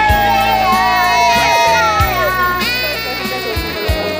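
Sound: crowd cheering at a sports day

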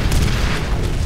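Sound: missile explosions in a shooter video game

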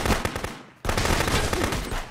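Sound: gunshot in Contraband Police video game

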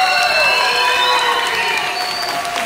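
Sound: loud applause from the festival audience

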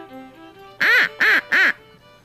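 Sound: duck quack call imitation

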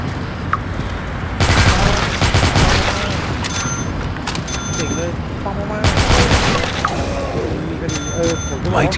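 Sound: automatic gunfire at zombies in Dead Trigger 2 video game

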